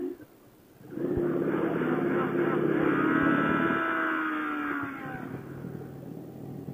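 A motorcycle engine at a traffic light on a Miami road trip revs hard toward redline. It is loud and close, climbing quickly and holding high for a few seconds before easing back, with faint voices around it.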